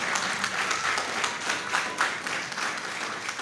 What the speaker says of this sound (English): A round of applause to the lady.